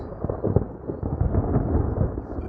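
Thunder during a thunderstorm rolls out as a deep, loud rumble that swells and churns for a couple of seconds, with no voices over it.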